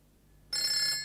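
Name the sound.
telephone ringing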